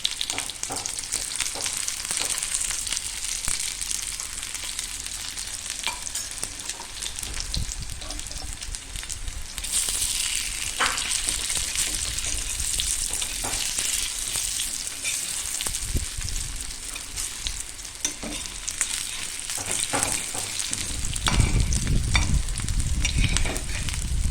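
Hot oil sizzles and crackles steadily around pieces of homemade alu vadi, colocasia leaf rolls, frying in a pan, a dense continuous hiss with brief louder bursts, close and with no talking.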